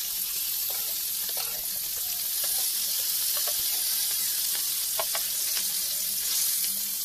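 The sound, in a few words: snakehead fish frying in oil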